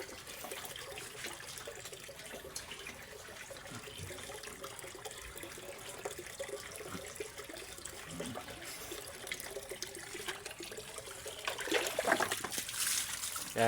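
Water poured out for pigs to drink, a steady trickling splash that runs on without a break and swells a little louder near the end.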